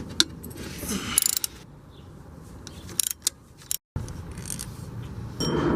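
A ratchet wrench clicks in quick bursts as 12mm bolts are loosened from a car's power steering pump, close and fairly faint, with small metallic clinks and pauses between the runs.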